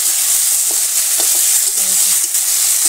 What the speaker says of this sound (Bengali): তেলটা আমার গরম হয়ে গেছে, আর উচ্ছেগুলো দিয়ে দেবো। আর উচ্ছেটা ভেজে নেব।